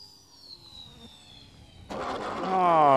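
An electric EF Slick 70-inch RC plane on a 6s power system with an AM670 motor whines overhead, a thin pitch sliding down before a louder, harsher motor roar swells in near the end.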